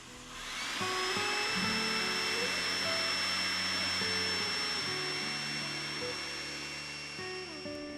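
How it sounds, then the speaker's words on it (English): A blower sucks air out of a flood-barrier tube, rising quickly into a loud, steady whine with a high tonal edge and a low rumble beneath, holding constant and easing slightly near the end. "By removing the mouthpiece of the blower, the air will be sucked out, thereby emptying the tube of air as fast as it was filled"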